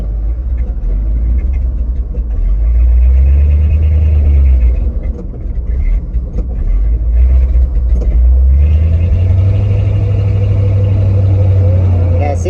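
A 1970 Ford 600 hay truck drives along with its engine rumbling, its gummed-up carburetor threatening to stall, low revs rising and falling through the run, loud and close, with someone talking over it.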